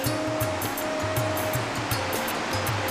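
A large Himalayan river at the confluence of two rivers pours down from a valley on the route to Chota Kailash, a loud, continuous rushing roar of turbulent water heard alone.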